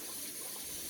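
Cold tap water runs steadily over cooked pasta in a strainer, a close, even hiss and splash.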